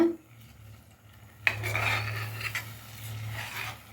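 Quiet scraping and clinking of a spoon stirring thick ragi halva in a pan over a medium flame, soft and close, with a low background hum.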